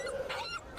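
A dog in the game The Inquisitor whimpers and yips in thin, high, wavering whines, fairly quiet and close, repeating across the moment.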